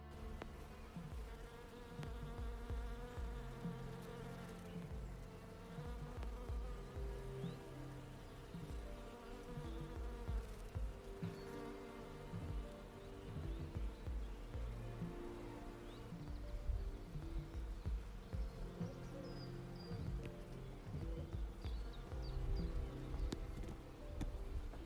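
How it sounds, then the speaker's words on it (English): Bees swarm through a blossoming cherry tree, a continuous soft hum of many wings with individual buzzes drifting close and away over a quiet outdoor background, with no talk. "let's just have a quick listen to the this cherry tree and the bees"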